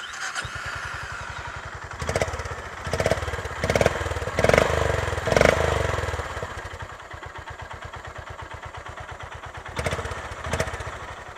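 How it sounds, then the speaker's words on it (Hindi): A Honda CB350 motorcycle with a chrome-finish exhaust idles with a steady thumping beat, then the throttle is blipped several times for louder revs before settling back to idle, heard up close. "इसका एग्जॉस्ट जो है क्रोम फिनिश एग्जॉस्ट है. एंड इसका साउंड काफ़ी प्यारा है. मैं आपको इसका साउंड सुनाता हूँ."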